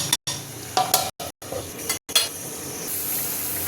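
Banana flower curry (mochar ghonto) simmering in a pan just after water is added, with a steady close sizzle and bubbling broken by a few short scrapes and gaps.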